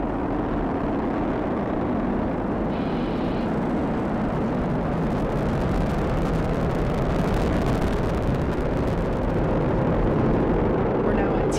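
A SpaceX Falcon 9 rocket climbs on its nine first-stage Merlin 1D engines during the Crew-6 Dragon launch, a continuous broad, rumbling roar that stays steady and distant the whole time, with voices faintly present.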